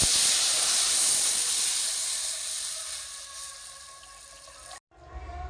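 Strained raw tamarind water hits hot oil tempered with five-spice and dried chillies, erupting in a loud, steady sizzle that gradually softens over several seconds before cutting off abruptly.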